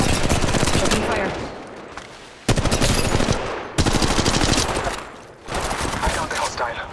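Loud rapid automatic gunfire from Apex Legends Mobile rattles in three long sustained bursts, each cut off abruptly before the next begins.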